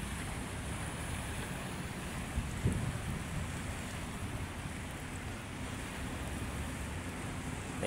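Sea waves roll continuously along Manila Bay under an overcast sky, a steady broadband wash with gusting wind buffeting the microphone and one brief thump partway through.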